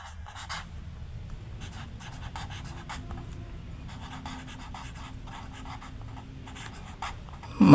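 Pen writing a math problem on paper, a quiet scratchy stroking in short bursts, close and soft, ending with a louder bump.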